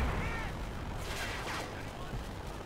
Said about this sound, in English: There's a lot of blowing up and a lot of machine guns.